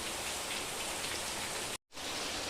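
Heavy unseasonal rain pours down in a steady, dense hiss during a flooding downpour, broken by one brief dropout before the roar resumes.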